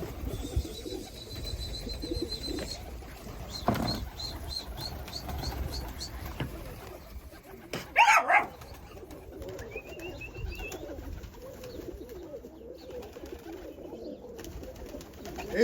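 Pigeons coo softly in a rhythmic series amid steady background hum, with a brief burst of fluttering or clatter midway.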